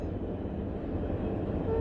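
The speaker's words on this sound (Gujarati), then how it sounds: "આ ટ્રેન આવી ગઈ છે, વચ્ચે ફાટક સ્ટોપ કર્યું." A train rolls past a closed railway crossing gate near a cement factory outside a village in Madhya Pradesh, a steady, close, heavy low rumble that holds throughout without letting up.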